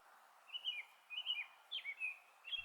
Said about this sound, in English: The American robin.